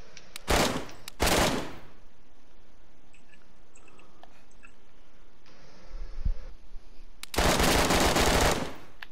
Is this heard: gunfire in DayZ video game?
yes